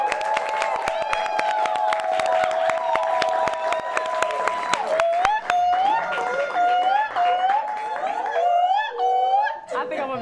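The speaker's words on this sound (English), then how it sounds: "Let's clap for that." A studio audience claps and cheers at a live talk show's season finale. The applause is dense and sustained across the whole stretch, with whoops and tonal, music-like sounds mixed in over it.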